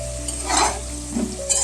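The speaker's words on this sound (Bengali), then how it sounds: "আলুটাও খুব ভালো করে লাল লাল করে ভেজে নেব।" Potato pieces fry in oil in a pan for a duck egg curry, a steady close sizzle with stirring scrapes and brief louder bursts, no voices.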